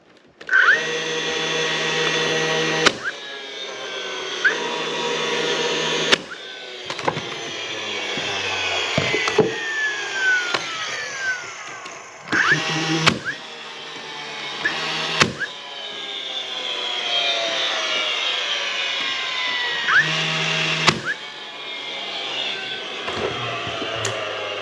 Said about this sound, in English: we'll put a couple nails in this one